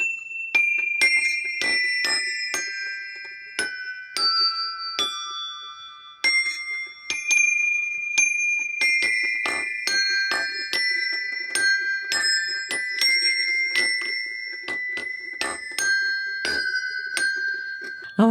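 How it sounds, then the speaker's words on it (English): Small recycled bells on a wooden bell tower ring in a quick, irregular series of bright metallic strikes, overlapping tones lingering as they are struck one after another, close and clear. "Now let's hear what they sound like. I'm going to take a little twirl on these bells here."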